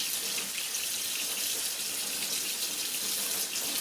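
Tap water runs steadily over cured bacon being rinsed in a sink, a constant close hiss and splash with no breaks.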